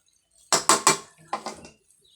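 A pot of food being stirred: three quick, close scraping clinks in a row, then a short pause and a softer run of scrapes, with no talking.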